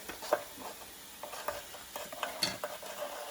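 A baking soda and vinegar mixture is stirred on a baking sheet, making soft irregular scraping and fizzing clicks close by, with no voices.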